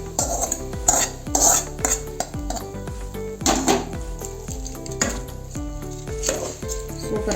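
Sliced onions sautéing in a pan for a Thoothukudi-style aviyal, with a metal spoon scraping and clanking against the pan in a steady rhythm of sharp knocks over a soft sizzle.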